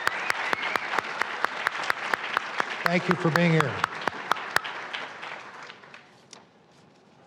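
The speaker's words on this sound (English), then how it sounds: "Let's give them a round of applause." An awards gala audience applauds in a sustained round of clapping with a few sharp, prominent nearby claps, while a voice speaks briefly over it before the applause fades away.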